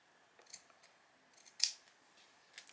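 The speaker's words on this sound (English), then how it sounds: "I just want to cut into where the arm is." Scissors snip through a paper pattern for a doll's bodice sloper around the armhole, a few soft, close cuts spaced apart with one sharper snip near the middle, otherwise quiet.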